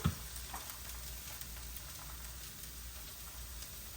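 Eggs stir-frying with vegetables, green onions, salt and pepper in a hot pan: a steady, fairly quiet sizzle like light rain, with a soft scrape or clink near the start and no talk.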